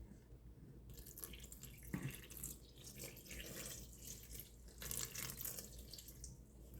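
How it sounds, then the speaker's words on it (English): Warm water at 105 degrees is poured over a bread poolish, giving a faint, close trickle and splash that comes in uneven bursts. "250 grams of water at 105 degrees. You're going to pour it over your Poolish."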